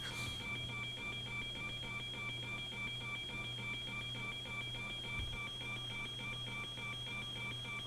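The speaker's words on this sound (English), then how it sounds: "Oh, that beeping sounds annoying." Cockpit warning beeps in a PMDG 737-900 in the Prepar3D flight simulator repeat in a steady, even pattern, sounding faint and continuous with no voices.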